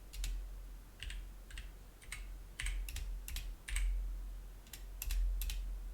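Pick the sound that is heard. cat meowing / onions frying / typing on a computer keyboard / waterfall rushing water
typing on a computer keyboard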